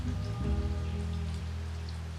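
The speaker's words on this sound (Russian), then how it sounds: "Идет дождь" Rain falls steadily outdoors where swans are being fed, a soft, even patter heard up close with no voices.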